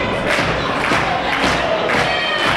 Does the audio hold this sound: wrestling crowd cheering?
yes